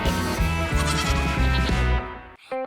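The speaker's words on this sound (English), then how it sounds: "There were some very beautiful goats in the pen." Goats in a pen in a cartoon bleat over and over in a loud, steady stream of wavering calls. The sound breaks off briefly and then one more bleat follows.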